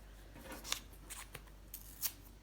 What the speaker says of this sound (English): I'm ripping a little bit more paper because I think I'd like a little extra to have.